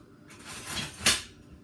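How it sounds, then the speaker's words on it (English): A quick stir of pickling liquid in a pot for cucumbers and red onions, a short swirl of scraping with a brief clink of the utensil against the side, close and alone. "So give this a quick little stir."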